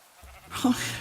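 A single short bleat from a pink sheep in modded Minecraft, rising out of near silence with a low room hum, fairly quiet and close.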